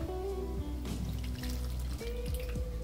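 A little water splashes into spiced masala frying in a pan for bottle gourd kofta curry, with a steady loud hiss and sizzle throughout and faint trickling on top.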